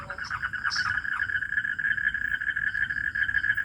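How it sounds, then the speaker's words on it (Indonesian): Frogs croak outdoors in a steady, continuous chorus, a loud sustained trill holding throughout with a few brief higher calls near the start, and no talk over it. "Ayo, suara kodoknya mengganggu nggak?"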